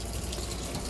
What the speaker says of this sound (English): I turned on the water.